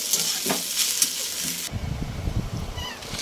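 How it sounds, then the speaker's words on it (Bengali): Rice fries in a pan with a steady sizzle, then turns to busier crackling and scraping as it gets stirred, fairly close and with no talking. "ওদের ভাতটা ভেজে নিই, তারপরে রান্না করলাম"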